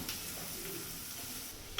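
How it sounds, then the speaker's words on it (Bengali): Onions frying with turmeric in a pan are stirred for an egg and cauliflower curry, giving a brief soft sizzle with a light scrape near the end. "ভালো করে পেঁয়াজের সাথে মিশিয়ে নেব।"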